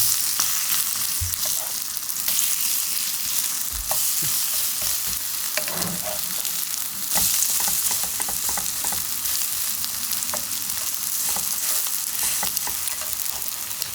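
Fatsia shoot (durup) pancake batter frying steadily in a hot oiled pan, a continuous close sizzle and crackle with occasional small pops and scrapes, no talking.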